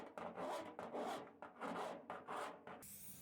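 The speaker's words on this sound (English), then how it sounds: "now I'm drilling the hole for the chimney" A hole saw cuts through the metal of a rebuilt smoker to make a chimney opening, a close, rhythmic grinding rasp in repeated strokes that stops near the end.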